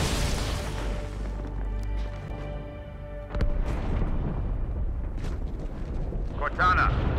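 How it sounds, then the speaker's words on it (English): A grenade goes off in the video game Halo 2 with a sudden booming blast partway through, set amid game sounds and voices. "That explosion. Oh, another explosion."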